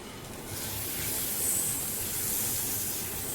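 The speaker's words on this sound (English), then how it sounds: "This sound is called sizzle" Butter sizzles in a hot pan while a sandwich is made, giving a steady, close, bright hiss that swells after the first half second and keeps going without a break.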